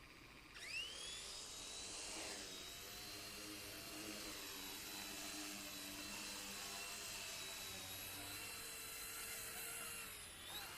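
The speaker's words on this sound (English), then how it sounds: "take off with this drone" Eachine E110 FPV drone motors spooling up for takeoff, a high whining buzz that rises in pitch then holds steady, close and continuous outdoors.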